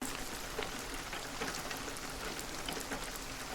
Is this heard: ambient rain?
yes